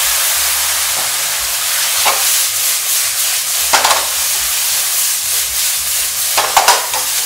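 Pickled mustard greens stir-fried in a wok with soy sauce, a continuous sizzle broken by repeated scraping strokes of the spatula against the metal.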